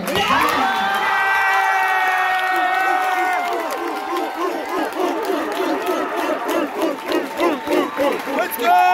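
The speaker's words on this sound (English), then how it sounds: "Would you please give a great big applause for our first runner-up" Crowd at a 2022 show-choir competition cheers loudly and then claps, rising from a dense wall of shouts and whoops into rhythmic applause. The cheering stays strong throughout.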